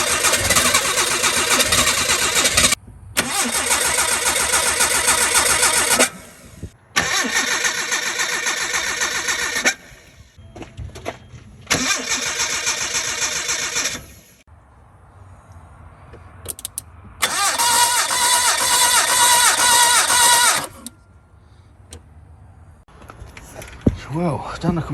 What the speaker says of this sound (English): Clean and gap the plugs. See if it starts.